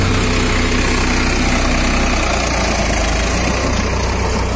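Tractor engine running steadily at about 1400 rpm in fourth gear while driving a rotavator, a loud, continuous low rumble and drone with constant vibration and no talk.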